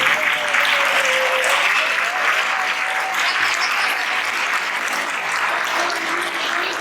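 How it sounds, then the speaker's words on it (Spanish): Audience applause at a sports awards gala, a broad, sustained wash of clapping from a large hall that stays even and strong throughout, with no speech over it. "eu quero que lle dedes un aplauso a esa xente que fai posible o deporte"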